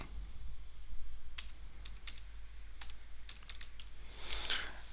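Keys on a computer keyboard are typed in short, irregular clicks while entering text into a word-processor table, fairly close and quiet against a low background hum.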